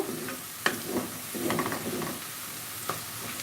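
Sliced onions sizzle in hot oil while being fried into crisp beresta, with a steady close hiss broken by several scraping stirs of a spatula against the pan and no voices.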